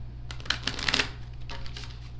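A tarot card deck being shuffled, giving a short burst of crisp riffling and flicking card sounds over a low steady hum, without talk.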